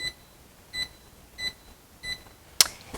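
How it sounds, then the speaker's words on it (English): A kitchen timer is set for cooking rice: four short, evenly spaced electronic beeps sound close by, followed by a sharp click from the device, in a quiet room. "Now we'll set a timer for 20 minutes."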